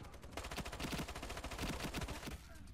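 Rapid hip-fire gunshots from a gun in the shooter game Ironsight, a dense burst of loud close shots that continues for nearly three seconds.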